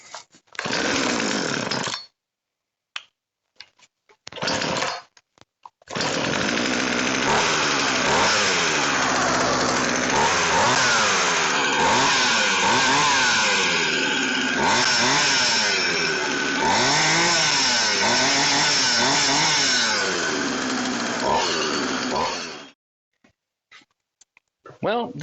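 A Poulan 2150 chainsaw runs after a few short false starts, then roars continuously for about fifteen seconds with repeated revving swells before cutting out abruptly.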